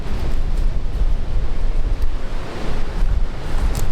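Ocean waves wash steadily onto a palm-lined jungle beach while wind buffets the microphone, making a continuous, loud, broad rush with no pauses.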